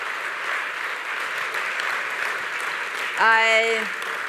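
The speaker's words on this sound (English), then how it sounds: "I think we could hear it from the applause" Audience applause at a talk, a steady wash of clapping that continues while a brief tonal sound rises near the end.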